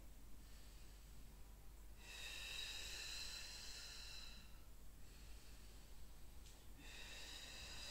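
Deep, slow breaths drawn during a Pilates abdominal exercise using a ring, focusing on the transverse muscle, heard as long airy exhalations in waves with short pauses between them, close and soft.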